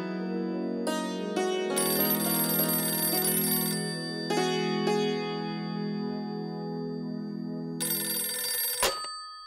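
A telephone rings with a repeating electronic ringtone melody in several bursts, loud and close in a family home, and then stops abruptly near the end. Nobody speaks over it.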